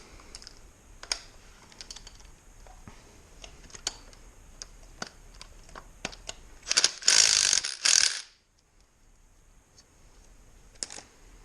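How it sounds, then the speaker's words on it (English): An impact wrench briefly spins out the 10mm camshaft bolt on a Honda 300ex ATV engine top end, a short loud burst of roughly a second among scattered light clicks and tool handling. "Grab the impact. And take that last 10mm bolt out for the"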